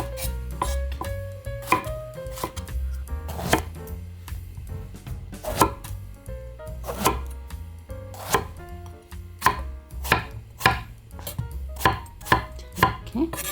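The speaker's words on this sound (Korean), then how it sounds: "한 3cm 정도 길이로 썰어주세요. 그런 다음에 편썰기를 해주세요." Knife slicing eggplant cut into roughly 3 cm lengths, a steady run of crisp, close chopping strikes that come faster and more regularly toward the end, with no voices.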